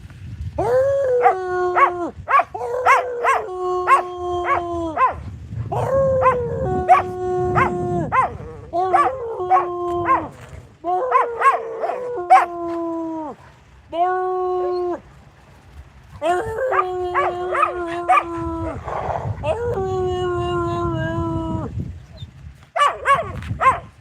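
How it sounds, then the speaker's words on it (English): Outdoor dog barking in bursts and then breaking into long, wavering howls, loud and close, with short pauses between the calls. "That barking dog is the one that howls."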